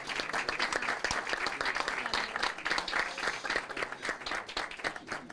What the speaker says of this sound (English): All right, can we give them another big round of applause,